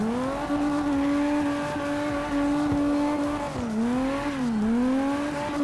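Simulated BMW turbo engine in the CarX Drift Racing video game, a steady droning roar with clear harmonic tone that dips and rises twice near the end, loud and continuous with no talk.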